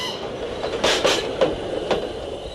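A train rattles and clatters along the rails, with a few sharp bursts of wheel and brake noise as it slows, loud and close, with no voices.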